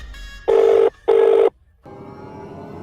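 A telephone rings in two loud electronic bursts, each about half a second long, separated by a short gap. A fainter tone follows, and no one speaks.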